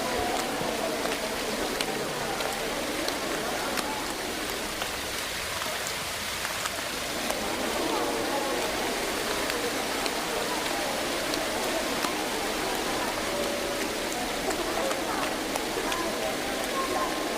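Rain falls steadily, a dense, even hiss of drops that stays constant throughout with no breaks.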